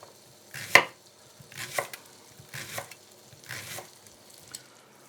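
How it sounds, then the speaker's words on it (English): A knife slicing a leek into thin slices on a board, with four or five distinct chopping bursts at an unhurried pace, close and clear with no talking. "So just going to top and tail the leek, quite thin slices."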